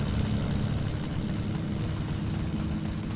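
A video game airplane's engine drones steadily at close range, a dense continuous rumble with a constant low hum and no pauses.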